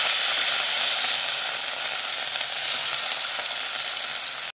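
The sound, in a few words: fish frying in a pan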